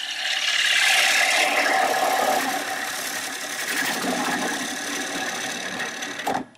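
A wood lathe cuts bulk material from a small green-wood bowl turning near 1,000 rpm, giving a steady, loud, gritty whir and rattle of the tool on the spinning wood that cuts off abruptly at the end.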